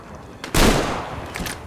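A shotgun in a first-person shooter game fires once with a loud, close, booming blast that rings out and decays, followed by a faint mechanical rattle.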